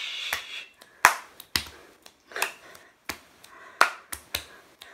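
Body percussion pattern of chest thumps, finger snaps and hand claps, sharp isolated hits in a loose repeating rhythm, close and clear with no talk.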